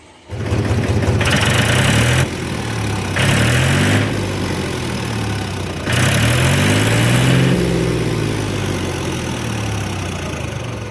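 A tractor's diesel engine, with a newly fitted silencer, idles steadily up close, with a few brief rises in revs breaking the low rumbling drone.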